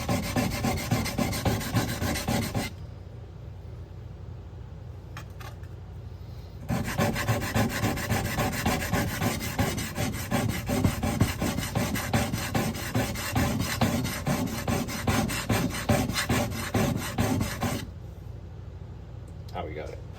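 A skinner knife is drawn across a sharpening stone in steady, rapid rasping strokes, close and fairly loud, stopping twice for a few seconds before the rhythmic grinding resumes.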